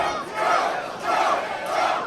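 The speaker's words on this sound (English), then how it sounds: "I think we know who the crowd is solidly behind." Wrestling crowd at an MCW Anniversary 2024 match chanting loudly in rhythmic, swelling waves, a large indoor audience roaring in unison without commentary over it.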